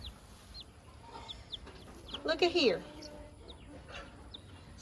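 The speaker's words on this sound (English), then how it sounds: "So my little naked neck hen was sitting in this box" A naked neck hen clucks from a box, with short low clucks and a louder squawking burst midway, while a person talks quietly nearby.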